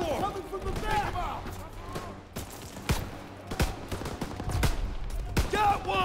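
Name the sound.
pistol gunfire in video game Call of Duty: WWII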